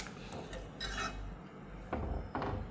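Ivy gourd fish curry being stirred in a pot, faint scrapes and knocks of a ladle against the metal vessel in a few separate bursts, with no one talking.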